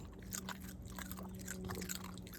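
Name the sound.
dog crunching food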